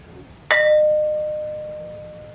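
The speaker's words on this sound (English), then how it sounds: "You realize that this thing really rings like a bell, and it reverberates for quite a long time." A struck object that rings like a bell, a single sharp metallic strike followed by a clear, sustained tone that decays slowly over about two seconds, loud and close with no talking.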